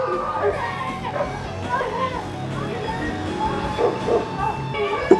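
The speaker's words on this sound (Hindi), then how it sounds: "कुत्ता आ गया।" Dog barking among excited children, several yips and short barks scattered through continuous overlapping chatter and shouting nearby.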